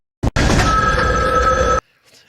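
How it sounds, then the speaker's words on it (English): An old-style telephone bell rings loudly once in a single sustained burst of roughly a second and a half, preceded by a brief click, then cuts off sharply to near silence. "Now they keep hearing this bizarre phone ringing, as you just heard"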